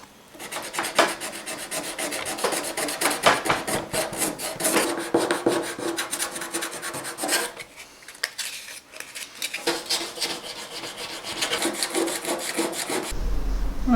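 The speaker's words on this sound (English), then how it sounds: "I'm just going to give it a quick sand, see if I can really feather out these edges properly." Sanding a gilded cockerel weathervane to feather the edges: continuous, close, fast rasping strokes of abrasive on the metal surface, briefly pausing midway, then resuming steadily, with no talking.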